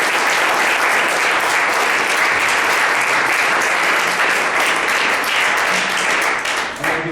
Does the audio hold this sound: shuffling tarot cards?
no